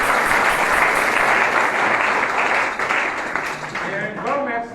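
A congregation applauding at a pontifical Mass, a steady wash of clapping hands that thins and fades toward the end, as a voice begins to speak over it.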